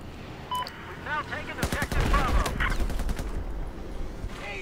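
Video game gunfire in a night operation: a burst of rapid, sharp shots in the middle, loud and close, with a few scattered shots around it and a voice talking at the start.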